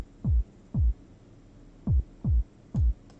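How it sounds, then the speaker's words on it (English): A soloed electronic bassline is sidechain-compressed to a kick drum, so it comes through as five deep, punchy bass thumps in an uneven rhythm. The bass drops away to near silence between the hits. "it's sucking in a bit, it's ducking the sound every time the kick hits"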